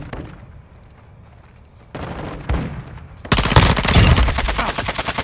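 Gunfire in Call of Duty: Modern Warfare 2 on the Black Gold map, with a few distant shots first, then a loud, rapid burst of sustained automatic fire close by that runs to the end.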